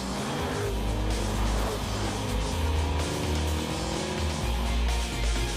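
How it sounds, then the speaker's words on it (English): A Ford Taurus SHO with a twin-turbocharged 365-horsepower EcoBoost V6 drives hard, its loud, steady engine roar and rumble continuing throughout with possible tire noise. "the twin turbocharging, 365 horsepower generating EcoBoost engine, and the all-new Taurus Show from Ford"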